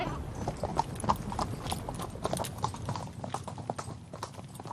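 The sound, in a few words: horse hooves clip-clopping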